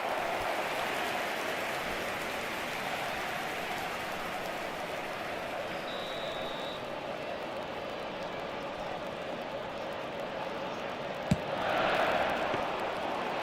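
Simulated stadium crowd in the eFootball 2026 mobile football game, a faint, steady wash of distant crowd roar throughout, with one sharp click near the end followed by a brief swell.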